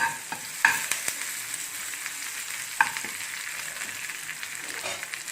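Onion fries in a pan with a steady, moderate sizzle, punctuated by a few sharp clinks and scrapes of a spoon stirring against the metal.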